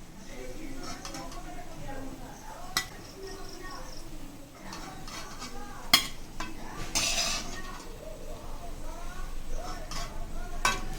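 Jackfruit fritters flipped and lifted out of a frying pan, with metal utensil scrapes and clinks over a soft, steady sizzle of hot oil, and a few sharper clatters near the middle.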